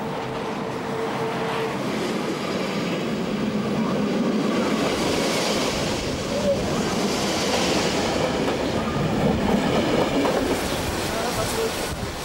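A locomotive-hauled train rolls past steadily with a continuous rumble and faint rhythmic clatter of wheels, loud and close throughout.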